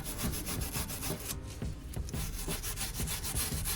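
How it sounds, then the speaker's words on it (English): Wire brush scrubbing corrosion off an Alfa Romeo Giulietta rear suspension part, rapid rhythmic rasping strokes with a brief pause, close and steady, no talk. "just get the wire brush on there, just clean up all this debris and stuff like that, bits of corrosion"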